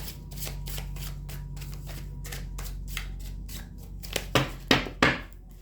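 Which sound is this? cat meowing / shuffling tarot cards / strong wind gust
shuffling tarot cards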